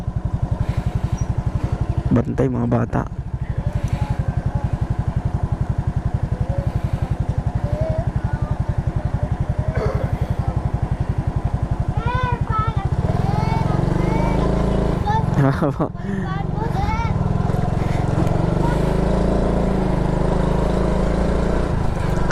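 A motorcycle rides along a muddy road past rice paddies, its engine a close, steady droning rumble that lasts the whole stretch, with people talking over it.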